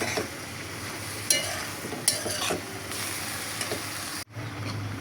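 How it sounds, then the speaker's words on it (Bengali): Roast spice paste with sour yogurt stir-fried in a pan, a steady close sizzle with repeated scraping strokes of stirring, heard alone without talk. "এখানে রোস্টের মশলা কষাচ্ছি, দিয়ে দিচ্ছি টক দই"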